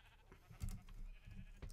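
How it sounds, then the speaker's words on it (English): A Minecraft sheep, the rainbow-wool kind, gives a few short bleats in the game, close and moderately loud over quiet background. "you can see her favorite sheep, Jeb"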